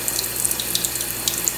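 Lukewarm tap water runs steadily from a faucet for bathing a cockatiel, a constant close hiss and splash with no talk over it.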